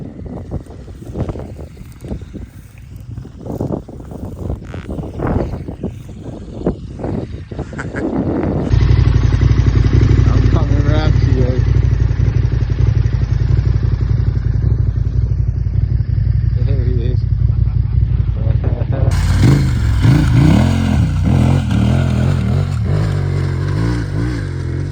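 A KTM 1290 Super Adventure R ridden off road in cold, icy conditions: a loud, constant engine roar with heavy wind buffeting, preceded by scrabbling and thumps, and someone talking intermittently over it.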